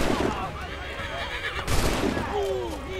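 A horse neighs in the Assassin's Creed 3 video game, a shrill descending whinny rising near the end over game ambience, with someone talking around it.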